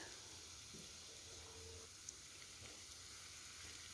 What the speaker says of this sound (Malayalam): ഞാൻ എണ്ണ ചൂടായി വന്നപ്പോൾ ഇതിലേക്ക് ഓരോന്നായിട്ട് ഫ്രൈ ചെയ്തെടുക്കുന്നുണ്ട്